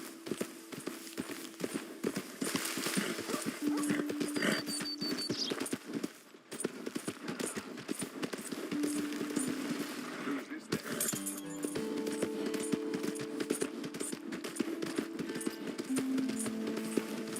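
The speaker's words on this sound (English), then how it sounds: "my horse! Am I glad to see you?" Horse hooves clip-clop at a steady trot in Red Dead Redemption 2 beneath continuous background music and game sounds, with a voice speaking over them.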